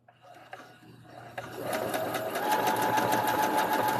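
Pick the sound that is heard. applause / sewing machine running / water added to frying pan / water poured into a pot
sewing machine running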